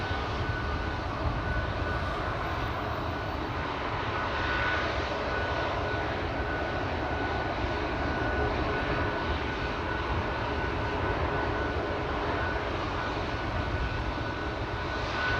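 A jet airliner departs from a wet runway at Amsterdam Schiphol Airport bound for Dubai, a loud, sustained engine roar and rumble heard from a distance, steady throughout with no talking.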